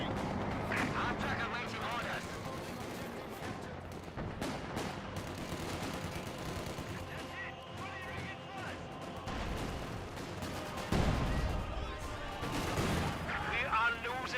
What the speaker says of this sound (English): Mortar gets a good shot there.